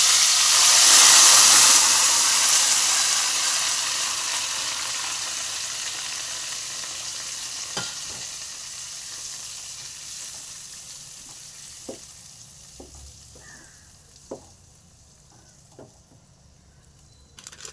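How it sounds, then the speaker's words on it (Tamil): Ground tomato paste for tomato thokku poured into a hot pan, a loud hiss and sizzle at first that slowly fades into a quieter simmer with a few light clinks. "இப்போ நம்ம அரைச்சி வச்சுக்க ஊற்றிக்கலாம்."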